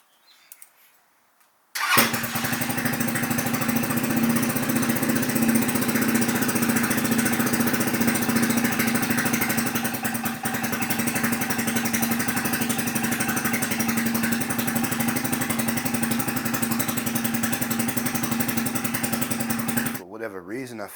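Venom x22GT 250cc automatic scooter engine fitted with a carbon fiber exhaust starts after a short quiet lead-in, then runs steadily, loud and close, with a deep continuous drone for most of the clip.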